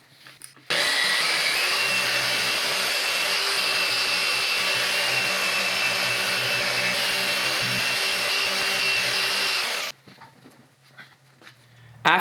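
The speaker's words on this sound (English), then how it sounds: "if I were to tackle this, I would be using a cutting compound along with a microfiber cutting pad." Steady motorized whir of a car polisher fitted with a microfiber cutting pad, working cutting compound into a scratched paint panel; continuous and close for about nine seconds before cutting off, with quieter background afterward.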